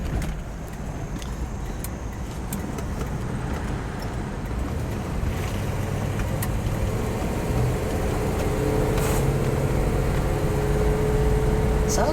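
A restored 1967 Pontiac GTO hardtop runs steadily, its low engine drone heard from inside the car with faint rattles and road noise, slowly growing a little louder.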